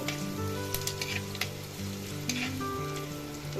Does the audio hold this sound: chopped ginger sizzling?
yes